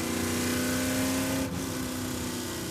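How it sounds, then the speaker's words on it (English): A loud race car engine howls at Laguna Seca racetrack, a sustained high-revving drone with a strong steady tone that dips briefly midway, then continues at full volume. "that car's gonna violate the noise regulations here at Laguna Seca"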